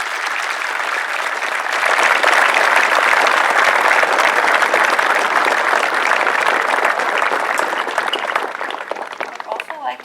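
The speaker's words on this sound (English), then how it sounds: "Please join me in a round of applause to acknowledge their hard work, dedication, and commitment to our country." Sustained applause from a large audience honoring military guests at a high school event, swelling after a couple of seconds into dense, steady clapping that fills the room before tapering near the end.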